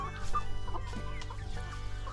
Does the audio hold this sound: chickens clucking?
yes